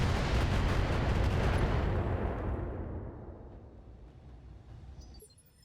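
Autocannon fire in the BattleTech game, a loud rumbling blast that slowly decays into a long fading roar, with no voices.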